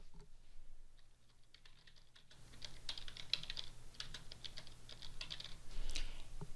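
Quiet, steady typing of a search query on a computer keyboard, a rapid run of light key clicks close to the microphone over a faint background hum.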